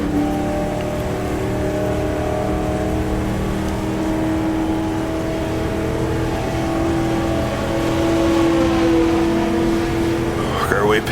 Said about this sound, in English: Work our way past the loud Ferrari though.